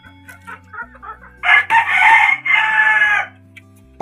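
A brooding hen clucks near and loud, opening with soft short clucks before a louder drawn-out run of agitated calls, then falling quiet.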